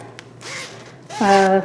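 Zipper on a Croft & Barrow 2X robe pulled in two quick rasping strokes, close up, with a voice briefly heard over the second stroke.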